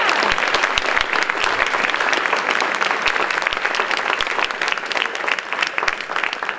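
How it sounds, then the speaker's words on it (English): A room of listeners applauds during a speech by a county judge at a Republican women's gathering, dense continuous clapping at steady volume, nearby and fairly loud, with no talking over it. "That deserves a round of applause"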